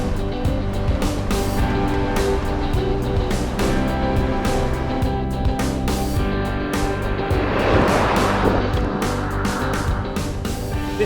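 A classic big American cruiser car drives along with a steady, smooth engine and road rumble, broad and continuous throughout, with a brief swell of wind or road noise partway through and no talking.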